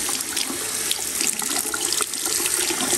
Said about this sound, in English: show you me running water over the shell, and let's see how they do